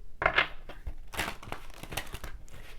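A tarot card deck is shuffled by hand in quick crisp riffles and slides, bursts of papery flicking and rustling spread across a few seconds, close and fairly loud with no voice.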